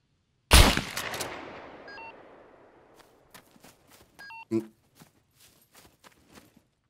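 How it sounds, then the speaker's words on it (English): Shotgun slug fired in the survival game Scum: one loud, sharp blast with a long decaying tail, then faint footstep-like clicks, small impacts and a few short tones, with no talk. "You can shoot me in the chest with the slug."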